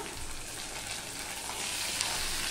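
Onion and tomato with ginger paste frying in a pan for a Bengali rui fish curry, a quiet continuous sizzle with faint scraping stirs, close and alone.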